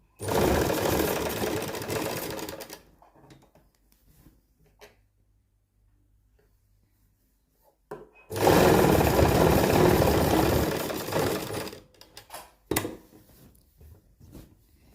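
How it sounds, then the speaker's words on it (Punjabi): A sewing machine stitches fabric, sewing a folded hem or waistband casing, in two loud bursts of steady whirring separated by a quiet pause, with short clicks and handling noises afterward. "ਇੱਕ ਪਾਸੇ ਆਪਣੀ ਸਿਲਾਈ ਲੱਗ ਗਈ ਆ ਤੇ ਦੂਸਰੇ ਪਾਸੇ ਵੀ ਆਪਾਂ ਇਸ ਤਰੀਕੇ ਨਾਲ ਹੀ ਸਿਲਾਈ ਲਾਵਾਂਗੇ"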